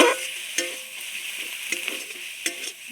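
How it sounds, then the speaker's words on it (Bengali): Spinach sautéing with vegetables in a pan, a steady sizzle with repeated scraping strokes of a spatula at an irregular rhythm, close and moderately loud, with no talking. "পালং শাকটা দিয়ে এক মিনিট নাড়তে না নাড়তে পালং শাকটা কেমন একটুখানি হয়ে এসছে"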